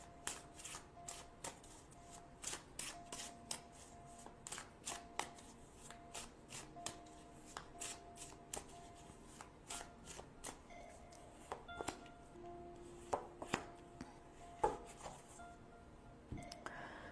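Tarot cards are shuffled in steady, soft riffling bursts and flicks that repeat throughout at close range, with no talking.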